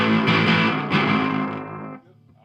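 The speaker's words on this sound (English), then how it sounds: "Octave, of course, makes chords sound terrible." Electric guitar chords pass through an Earthquaker Devices Sunn Life Pedal with octave engaged, harsh and fuzzy with a couple of strummed attacks, then the sound decays into a quieter buzzing tail.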